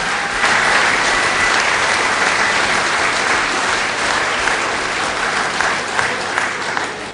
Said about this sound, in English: So a round of applause for HSSC and everybody that's put together tonight